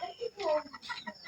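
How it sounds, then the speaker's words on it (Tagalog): Chickens cluck softly near a home at dusk, with a few short, faint calls in quick succession. "Yung mga manok."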